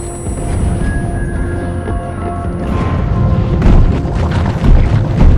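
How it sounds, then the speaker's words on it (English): An explosion in the Deep Rock Galactic video game: a loud, heavy, rumbling boom that rolls on for several seconds and swells with fresh blasts near the end, with bright tonal game effects ringing over the start. "Things about to go boom."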